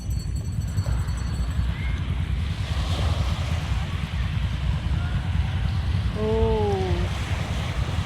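Strong surf rolls onto the shore at a beach in Bolinao, Pangasinan, as a steady, loud roar of breaking waves. A person briefly exclaims near the end.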